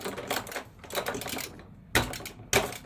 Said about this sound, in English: can just click these keys